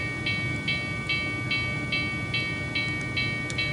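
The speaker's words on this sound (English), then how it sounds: "Choo-choo." A train passes with a steady low rumble and a regular series of short, evenly spaced clicks about every 0.4 seconds, like wheels over rail joints, moderately loud and continuous with no talking.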